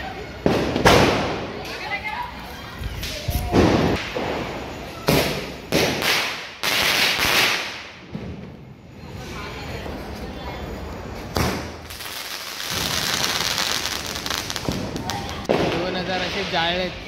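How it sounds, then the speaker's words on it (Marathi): Diwali firecrackers and sparklers at night: sharp bangs and crackling bursts pop repeatedly, some close and loud, others farther off, with a steady hissing crackle and people talking throughout. "2000चे फटाके संपलेत, फक्त शेवटचे 4 फुलबाज्या."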